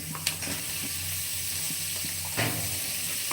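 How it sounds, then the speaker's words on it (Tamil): Tomatoes sauté in a hot pan with a continuous close sizzle and hiss, broken by a few light scraping stirs of a spoon against the pan; no voices. "இதெல்லாம் நல்லா வதக்கி விட்டு லைட்டாக வதங்கினா போதும்"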